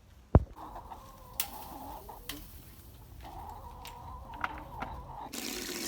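Chickens cluck in a backyard garden, close and moderately loud, with repeated short calls spread across the stretch, a few sharp knocks, and a steady low background hum with no speech.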